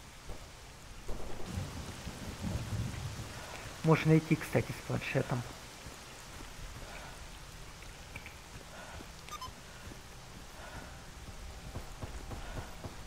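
Rain falls steadily in the STALKER Anomaly video game while thunder rumbles, with a louder crack mid-way, and someone talks briefly over the storm.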